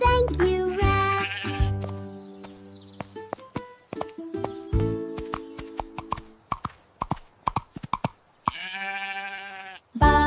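Cartoon black sheep in an animated nursery rhyme, heard as a short bleat near the end after a bright musical passage with plucked notes and clip-clop-like percussion; the bleat is brief and loud, with no voices over it.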